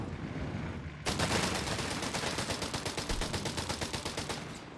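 Sustained machine gun fire from a Company of Heroes 3 battle bursts in abruptly and keeps up a rapid, steady stream of loud shots for several seconds.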